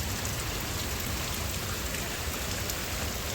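A downpour of heavy nighttime rain roars on without a break, a thick wash of drops striking the ground during a storm with lightning. No one talks over it.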